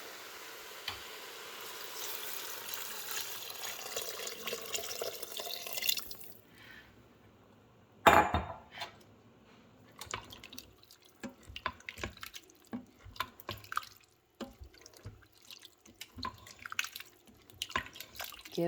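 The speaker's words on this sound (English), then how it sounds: "Gonna pour our stock in." Stock pours into an Instant Pot over split peas as a steady liquid splash for several seconds, then a sudden sharp clatter, followed by scattered drips, taps and small knocks at close range.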